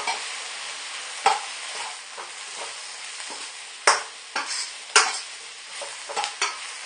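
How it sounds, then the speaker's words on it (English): Pork stir-fry with ginger and chili powder sizzles steadily in a pan while a utensil scrapes and tosses it, the constant hiss broken by several sharp clanks near the mic, with no talking. "Mix this around."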